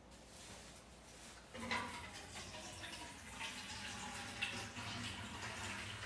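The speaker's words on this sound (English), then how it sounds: "So let me pour out some of this water." Water is poured out in a quiet indoor setting, a soft trickle that swells into a steady stream and keeps running for several seconds, with no voices heard.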